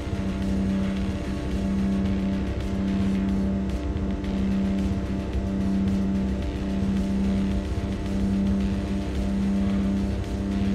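GT 300 race car engine in Gran Turismo 2 on PS1, a steady droning hum held at constant pitch throughout, loud and unbroken with no talk.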